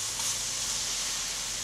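Cut banana pieces drop into melted butter in a hot skillet, giving a steady, even sizzle and hiss that holds throughout, close and fairly quiet with no voices.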